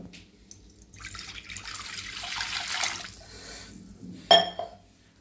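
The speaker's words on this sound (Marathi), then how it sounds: "एक ग्लास पाणी टाकतो याच्यामध्ये बघू शकता" A glass of water is poured into a pan for Maggi noodles, a soft splashing pour of about two seconds, followed by a sharp metallic clink.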